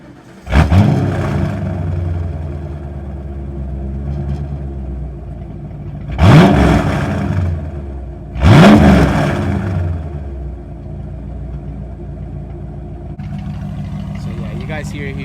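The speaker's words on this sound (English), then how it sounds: "So I'm gonna leave the mic right here so you guys can hear the exhaust." A Ford Mustang Foxbody's exhaust, picked up by a microphone set near it, idles with a deep rumble and is revved three times in sharp, loud bursts, each settling back down. A license plate may rattle slightly.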